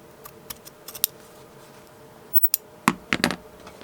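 Scissors trim excess material off a lace and textile collage board, giving a few faint snips early, then a quiet pause, then several sharp, close cuts in quick succession near the end.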